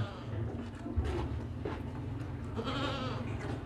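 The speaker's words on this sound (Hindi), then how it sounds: "ये बकरा चेक करें भाई, 2 दांत बकरा है, कुर्बानी वाला बकरा है" A two-tooth Qurbani goat, red and white with long broad ears, bleats a few times amid a busy livestock market, with people talking and a steady crowd hum throughout.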